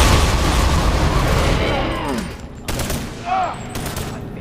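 Gunfire in a video game, a dense burst of rapid shots with booming blasts, loud at first then thinning into scattered reports with a few synthetic tones near the end.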